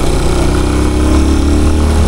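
Motorcycle engine runs close and loud, holding a steady, even throb without revving.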